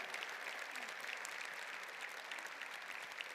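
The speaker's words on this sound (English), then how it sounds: "Let's give them a round of applause." Warm audience applause at a county State of the County event, a steady, even roar of many people clapping that stays constant throughout, heard from a distance in a large hall.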